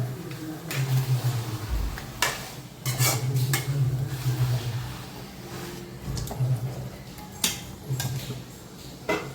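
Fish curry ingredients are stirred and sautéed in a pan, giving a steady scraping and a soft sizzle with occasional sharp clinks of the spoon on the pan, close up, with faint background hum and no talking.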